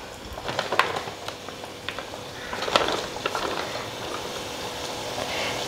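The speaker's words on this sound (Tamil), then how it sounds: "எண்ணெயில் போட்டு வேக வச்சிடலாம்" Thattai rice-flour dough frying in hot oil in a home kitchen, a soft continuous sizzle with scattered crackles and pops, fairly quiet and close, with no talking.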